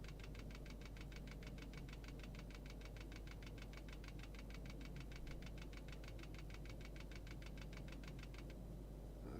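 An aircraft engine runs at reduced throttle in the FlightGear flight simulator. It makes a faint, steady, rapidly pulsing drone that continues evenly and then drops away near the end.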